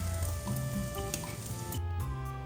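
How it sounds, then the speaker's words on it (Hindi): An egg fries in a pan until it turns brown, giving a steady, close sizzle with a constant crackling hiss that runs unbroken throughout, with no voices. "थोड़ा सा भी इसको पकाएंगे, थोड़ा सा ज़रा ब्राउन हो जाए।"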